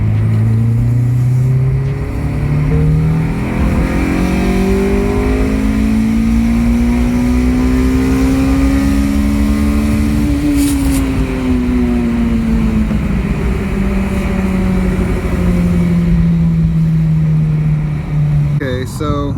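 An Acura RSX fitted with a velocity stack accelerates hard on a dyno-style pull, its engine note climbing steadily in pitch for about ten seconds, easing briefly, then holding a loud, close, continuous drone to the end.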